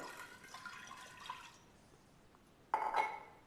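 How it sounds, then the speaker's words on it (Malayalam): Water splashing into a pressure cooker in a kitchen, faint and brief, with a short pour at the start and a louder gush near the end. "അതിലേക്ക് കുറച്ച് വെള്ളം ഒഴിക്കുക."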